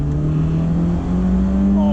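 Close by, a 1988 BMW E30 M3's engine holds a steady droning tone, then revs up and accelerates with a rising pitch, while a voice can be heard under the engine.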